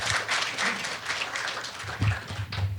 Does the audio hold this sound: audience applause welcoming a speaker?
yes